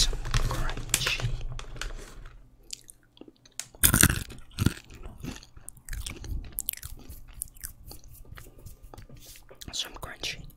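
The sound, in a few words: ASMR eating crunchy peanuts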